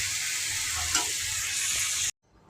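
Vegetable bhaji frying in a pan gives a dense, steady sizzle that cuts off abruptly into near silence, followed by faint rising noise.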